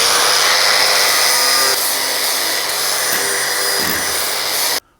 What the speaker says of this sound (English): A good way to take the paint off is an abrasive wheel on your grinder